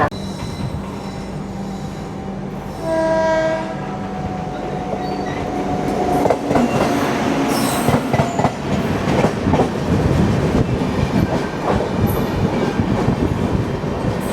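A Chennai–Bengaluru Shatabdi Express train rumbles along the rails, building to a loud, dense clatter of wheels with a brief high tone early on and no talking.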